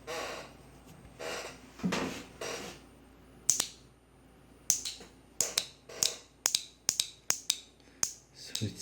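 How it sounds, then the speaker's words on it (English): A Toyota 4Runner 2003 V8 A750 transmission solenoid, powered from a bench battery, clicks in a string of crisp, quiet, irregularly spaced ticks after some soft rustling and breathing. "it says the solenoid should make operating noise"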